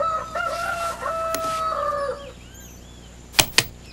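A rooster crows in one long, wavering call lasting about two seconds at moderate distance, then quiet with two sharp clicks near the end.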